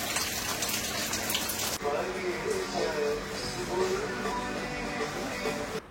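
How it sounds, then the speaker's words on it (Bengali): Steady rain falls on a village home, a dense continuous hiss of drops and running water that stays loud throughout, with a brief softening partway through. "এই যে বৃষ্টি পড়তেছে এখানে"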